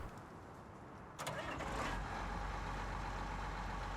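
A tractor engine starts in Farming Simulator 19. A quiet stretch ends with a sudden crank, and the engine catches and settles into a steady idle hum.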